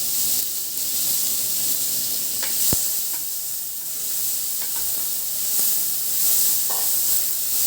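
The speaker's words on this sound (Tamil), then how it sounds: "வெங்காயத்தை நம்ம நல்லா வதக்கிக்கலாம்" Onions sautéing on high heat in hot oil for mutton thonjal kulambu give a steady, moderate sizzle with occasional soft stirring scrapes and small pops, heard alone and close.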